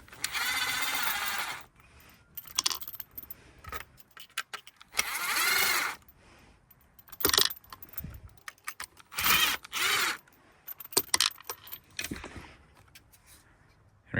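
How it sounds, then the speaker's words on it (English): A power driver backs screws out of a cabin light fixture in a Toyota Hiace, heard as several bursts of close, buzzing motor whirr with ratcheting clicks, separated by short pauses and small handling noises. "Pull these screws out."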